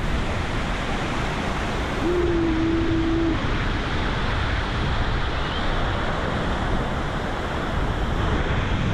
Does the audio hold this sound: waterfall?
yes